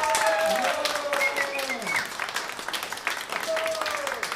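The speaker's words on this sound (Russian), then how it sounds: "Давайте мы дружно поаплодируем, похлопаем ему" Clapping from an audience honouring a guest's milestone birthday, a dense patter of hands with a voice speaking over it at the start and a melodic tone fading out.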